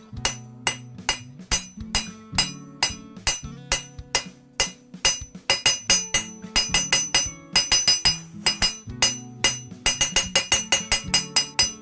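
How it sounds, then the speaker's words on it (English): A hammer beats steel on the corner of an anvil to forge the bevels of a Bowie knife. The steady, ringing metallic strikes come in quick runs and are heard alone, without talk. "Now we're gonna begin forging in our bevels."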